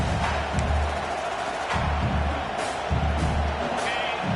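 A big stadium crowd in the college football video game NCAA 26 roars continuously near the goal line, a broad wash of cheering with occasional whoops and thumps.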